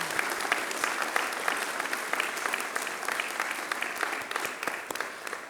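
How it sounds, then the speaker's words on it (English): An audience at an academic awards ceremony claps steadily and enthusiastically, a dense patter of many hands that carries on throughout and eases slightly toward the end. "join me as we collectively celebrate their remarkable achievements with a well-deserved and enthusiastic round of applause"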